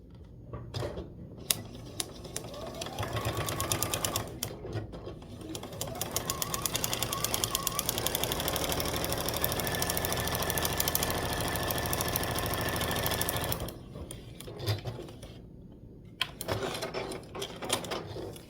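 A sewing machine stitches pieces of fabric together in a steady, rapid mechanical whir with close ticking. It runs for several seconds, and shorter bursts of stitching sound before and after the run.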